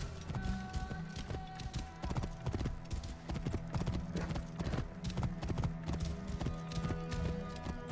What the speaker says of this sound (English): I keep stopping the horse because in all reality, a horse wouldn't be able to keep this pace in an actual desert.